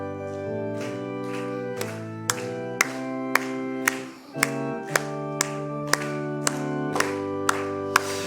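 A church congregation claps along to a hymn, steady evenly spaced claps about once a second over sustained organ or keyboard chords, the clapping clear and moderately loud throughout.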